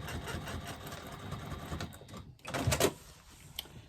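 A sewing machine stitching the corners of a foam-lined bag, a rapid close mechanical whirr and tapping that runs steadily, pauses briefly, then resumes with a short louder burst.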